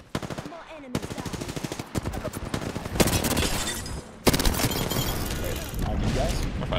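Rapid automatic gunfire aimed at the player in the battle-royale shooter Apex Legends, with dense bursts of machine-gun fire coming close and loud in several waves.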